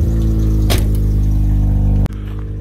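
A Toyota 86 engine running steadily and loud at close range, with a brief burst of noise early on and a sharp drop in level near the end as the engine note changes.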